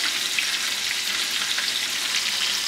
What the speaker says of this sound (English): we're gonna lay it gently and let it sizzle